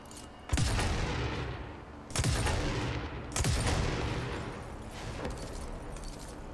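A rocket launcher in a video game fires three times. Each shot is a booming whoosh with a sharp onset that fades over a second or so, over a steady rumbling game ambience.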